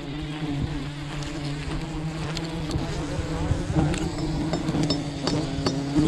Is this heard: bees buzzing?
yes